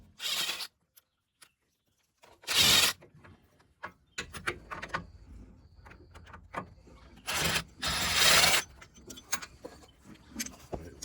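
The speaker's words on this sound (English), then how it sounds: "So we're gonna remove the bolts." A ratchet works loose the bolts on the front end of a 2014 Nissan Maxima. Two or three close, buzzing ratchet bursts stand out among scattered small clicks and taps from the work.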